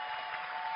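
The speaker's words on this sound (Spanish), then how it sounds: "Vamos a darles un tremendo aplauso a esta gente." Brief, faint audience applause for the event hosts, a steady wash of clapping heard from a distance with no voices over it.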